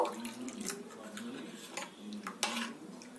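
Water poured into a bowl of turmeric and Kashmiri chili powder with salt, a soft trickle and light splashing with faint clinks of utensils against the bowl, quiet and close.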